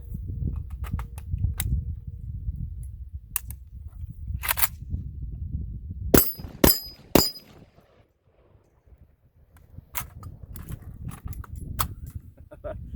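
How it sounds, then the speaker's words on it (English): Magazine reload on a Zastava ZPAP M70 AK-47 rifle: scattered metallic clicks and clacks, with a few sharp, loud knocks in the middle, over low background rumble and wind. "try a little bit more of the reloads that I keep failing on"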